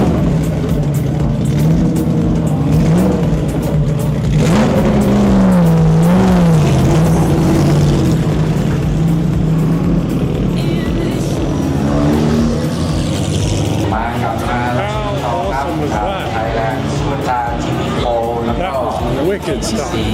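A race car engine at a Grand Prix weekend fires up and revs loudly nearby, with rising and falling pitch sweeps over a constant mechanical roar, while people talk over it.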